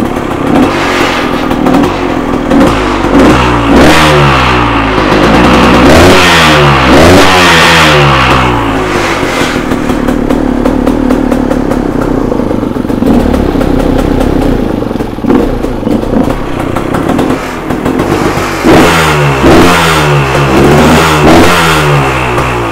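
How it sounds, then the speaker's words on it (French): An enduro motorcycle engine revs hard again and again in a workshop, throttle blips rising and falling in quick bursts over a steady loud idle, close by. "Comme vous pouvez voir, la moto tourne très bien."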